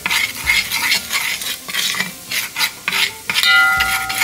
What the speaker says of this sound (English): then you just stir the rest in the oil